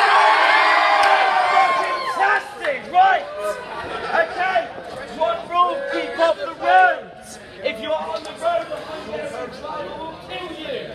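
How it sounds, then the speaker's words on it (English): A crowd of people at a party event screams and cheers on cue, loud overlapping shouts and whoops in bursts that rise and fall, with chatter mixed through the noisy room. "please give me a scream."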